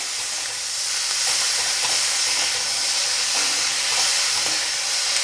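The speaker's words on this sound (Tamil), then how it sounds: "தக்காளியும் சேர்த்து வதக்கிக்கலாம்." Large chunks of tomato sautéing in a pan, a steady loud sizzle with faint stirring scrapes running throughout.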